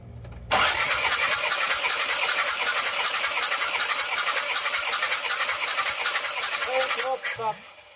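Isuzu Panther 2.5 diesel engine cranking steadily on the starter for a cylinder compression test, a loud, rapid rhythmic churning that runs continuously for about seven seconds before a voice cuts in at the end.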